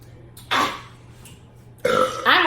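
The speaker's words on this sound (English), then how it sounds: "he trying to make himself burp" Two loud, close burps from a man in a burp contest, each about a quarter to half a second long, with a quiet pause between them and a low steady hum underneath.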